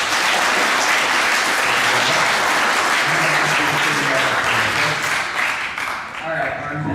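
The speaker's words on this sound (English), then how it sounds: "Would you please give these guys one more round of applause?" Sustained audience applause fills a middle school awards assembly hall, dense and steady clapping from a large crowd with a few voices mixed in, easing slightly near the end.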